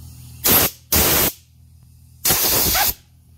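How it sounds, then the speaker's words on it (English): An air nozzle blows compressed air over magnetic nut drivers in three loud, sharp hissing bursts, two quick ones then a longer blast, close up with quiet between. "Simple. Air nozzle. You gotta watch your eyes."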